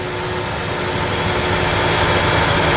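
A 1994 Ford F-150 engine idles steadily up close with a leaking gasket and a lean condition, giving a constant loud rumble with broad hiss that rises slightly toward the end.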